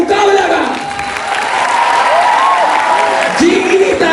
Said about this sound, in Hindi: आपकी तालियों के साथ शुरू करते हैं हमारे मुशायराई मुकाबला का